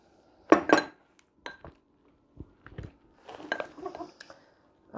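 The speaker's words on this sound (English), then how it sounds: "And then I just stir it in." A spoon stirs flour and water into an established sourdough starter in a jar, giving a few scattered clinks and scrapes, close and quiet with silent gaps between them.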